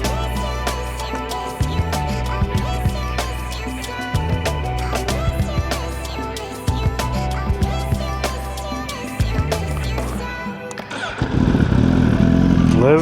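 Motorcycle engine idling with repeated throttle blips over several seconds, then a louder, rougher rev surge near the end, close by with no talk.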